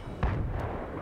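A tank's main gun firing in the video game Battlefield 3, a single heavy, booming shot with a deep low-end thump and a short rumbling tail, loud and close with no voices.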